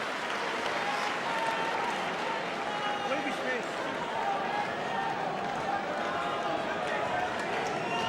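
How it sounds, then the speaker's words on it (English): A boxing crowd roars in a steady wash during the fourth round of the Alex Arthur versus Craig Docherty fight, with a commentator talking over the dense cheering. "Just listen to the crowd."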